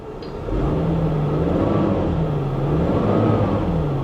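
A 1970 Chevy Monte Carlo with listed mechanical damage running and rolling: a loud, rumbling mid-pitched engine that swells after half a second, pitch wavering up and down as it revs, with no talk.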